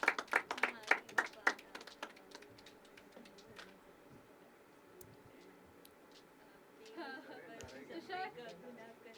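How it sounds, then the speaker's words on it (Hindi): An audience at a poetry open mic claps in a short burst of sharp, close handclaps that quickly die away, followed by quiet room murmur and then a person talking. "एक बार जोरदार तालियां।"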